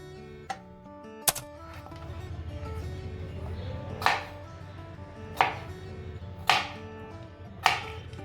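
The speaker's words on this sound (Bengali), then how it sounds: "আমার প্ল্যান আজকে হচ্ছে ছোট ছোট করে কুচি করে আলুগুলো কাটবো" A knife chops potatoes into small pieces in a home kitchen while aloo egg masala is being made, giving about six sharp, separate strikes spaced over several seconds against a low background hum.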